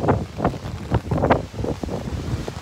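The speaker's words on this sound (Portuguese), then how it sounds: "O vento tá forte." Strong wind blowing outdoors on a street near Osaka Castle in Japan, gusting in uneven buffeting bursts against the microphone, fairly loud and rough with no talking.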